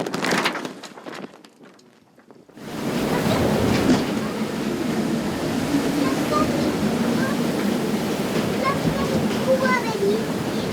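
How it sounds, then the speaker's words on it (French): After a short burst of wind-buffeted noise, heavy surf roars continuously, rough waves crashing and churning close by. "C'est impressionnant hein, cette mer en furie comme ça."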